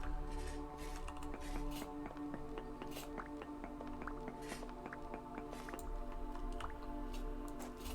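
Dripping, trickling water inside a cave in the game Vintage Story, a steady run of small drips and splashes over a continuous low watery murmur, fairly close and alone.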